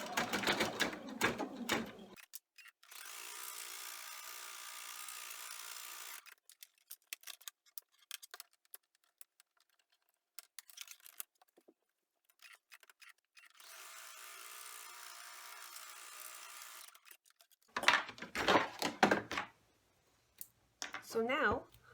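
An embroidery machine runs tack-down stitches on vinyl for an in-the-hoop coin holder, with two separate runs of steady rapid buzzing split by a quiet gap, and clicks and handling noises at the start and end.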